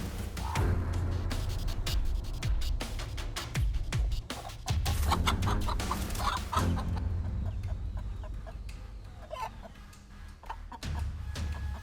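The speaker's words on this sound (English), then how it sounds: "the hen rushed straight towards the snake, determined to chase away the enemy to protect her chicks" Mother hen rushing at a snake to guard her chicks, clucking loudly and repeatedly in agitated bursts, close by, with a brief quieter stretch before the clucks pick up again.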